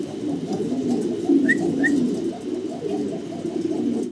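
Fancy pigeons, including a pair of shouking birds, coo in a repeating rhythmic pattern close by, steady throaty pulses with a couple of brief higher chirps, no talking.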